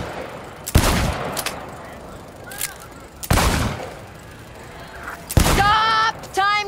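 Gunfire at a shooting range in Cyberpunk 2077, with three loud separate bursts of shots spaced a couple of seconds apart and a short ringing tone near the end, no talk.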